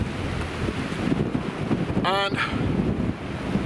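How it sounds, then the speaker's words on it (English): Strong wind at the sea coast roars steadily and close into the microphone, with a brief voice partway through. "That's a bit of wind going on here."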